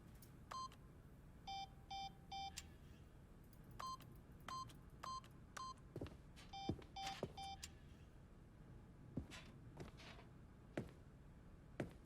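Keypad buttons in The Stanley Parable beep in quick repeated two-tone presses, bursts of several beeps in a row with short gaps, alone and close over a faint room hum.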